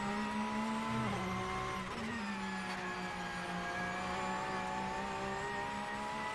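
A Porsche 911 RSR race car engine in the video game Assetto Corsa at the Nürburgring roars steadily at high revs, with a brief dip and surge as gears shift, loud and continuous throughout.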